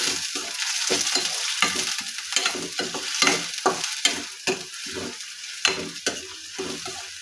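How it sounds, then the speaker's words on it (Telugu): Onions frying in a pan are stirred continuously, a steady close sizzle broken by quick scraping strokes of the spoon in an irregular rhythm, with no talking. "ఆనియన్స్ అనేది ఎర్రగా వచ్చేంత వరకు కలుపుతూ ఉండాలి."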